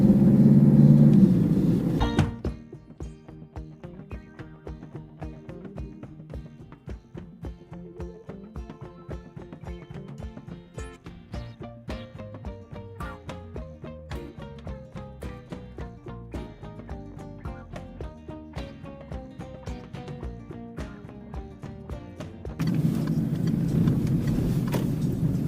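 A car drives along, its cabin rumble loud at the start and end, with a quieter rhythmic ticking in between.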